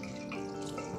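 Tap water pours steadily into a container for rinsing, a brief close gurgling stream with no talk.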